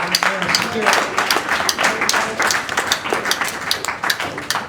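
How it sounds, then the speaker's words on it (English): Audience applause for a performer at a funeral gathering, a steady wash of clapping with some voices mixed in, fairly close and sustained for the whole stretch. "Give a round of applause to Mike Lima"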